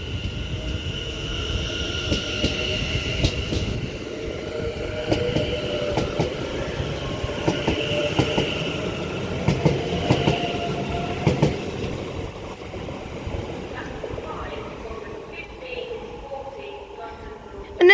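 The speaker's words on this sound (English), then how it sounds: "as this London North Western Railway 730 departs now" A London North Western Railway Class 730 electric passenger train pulls away from Stafford with a steady rising motor whine and rhythmic wheel clatter on the rails, loud and close, fading slightly at the end.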